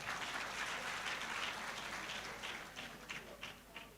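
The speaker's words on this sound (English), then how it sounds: "A round of applause for her once again." Audience applause at a presidential policy event, a steady wash of many hands clapping that thins out toward the end, fairly distant and soft.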